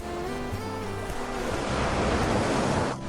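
Ocean waves roll onto an empty beach on Fuerteventura's Jandía Peninsula, heard as a steady surf roar that swells louder midway, with wind buffeting the microphone and no voices.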